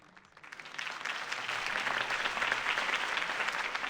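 Video game crowd applause from Batman: The Telltale Series swells up after a brief quiet start, then holds as a dense, steady wash of clapping.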